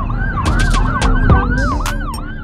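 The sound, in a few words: ambulance siren in traffic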